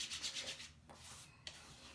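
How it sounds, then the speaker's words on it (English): Hands rub lavender pre-shave oil into facial skin, giving soft, close, quiet swishing strokes in a few rhythmic passes. "I'm just going to rub that in."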